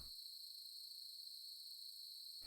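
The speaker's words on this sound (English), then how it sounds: "You can even open the window to let in a cool night breeze and be serenaded by crickets I recorded during the first hour of June" Crickets chirring at night in the video game Glow Cubes, a steady high-pitched insect trill holding without pause and no voices present.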